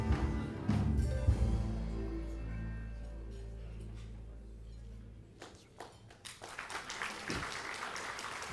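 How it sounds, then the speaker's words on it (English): Audience applause at a business excellence awards night, with a burst of clapping at the start that tapers into scattered claps and then a few louder isolated claps, heard without talk. "Another round of applause, ladies and gentlemen, for Amalgamated Pest Control"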